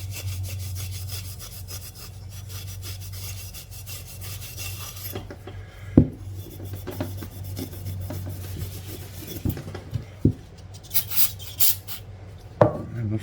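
A gray Scotch-Brite pad scrubs a rusty VW engine part wetted with carb cleaner, giving rough rasping strokes over a low steady hum, then irregular scraping and knocks toward the end.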